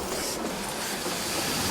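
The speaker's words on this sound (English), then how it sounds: "The packed express arrives at Taihape." A packed express train pulling into Taihape station, a dense, loud rumbling roar of rolling carriages that fills the brief stretch evenly and stays steady throughout.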